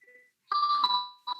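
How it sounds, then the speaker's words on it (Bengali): A phone ringtone for an incoming call during an online class: a bright electronic melody with sustained tones, a short ring followed by a brief pause and the start of the next ring. "একটু ধরো, আমার একটা ফোন আসছে"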